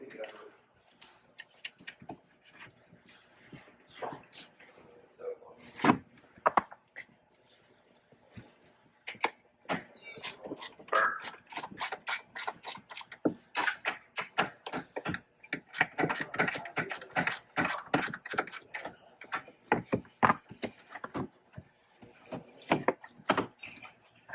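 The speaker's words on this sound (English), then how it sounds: "Just simply put them on, spin it on, go all the way tight, tighten it down." Plastic twist knobs are spun onto a Tesla Model 3/Y LED tail light and tightened down, giving quick bursts of small dry clicks and ticks, close and fairly quiet.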